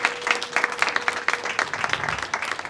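Wedding guests at a church ceremony cheer and applaud, a steady patter of many hands clapping in quick rhythm with crowd noise, moderately loud and continuous throughout.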